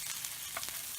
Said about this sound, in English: We'll add a little bit of butter. Give it a good mix